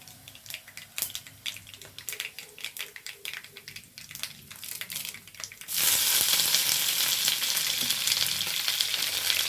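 Curry leaves dropped into hot oil for a bitter gourd pachadi, starting with scattered crackles and spatula taps, then bursting into a loud, continuous hiss of sizzling that holds steady to the end.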